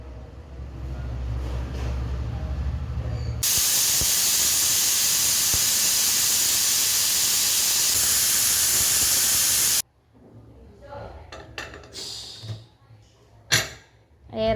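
A pressure cooker holding Kerala-style vegetable biriyani vents steam in a loud, steady hiss lasting several seconds, then cuts off abruptly, leaving faint kitchen clatter and brief scattered noises.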